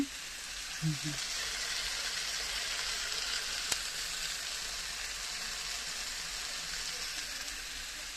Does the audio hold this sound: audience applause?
no